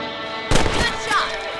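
A single sharp rifle shot rings out in Red Dead Redemption, a close crack with a short echoing tail, followed by a brief whistling tone and a faint second report.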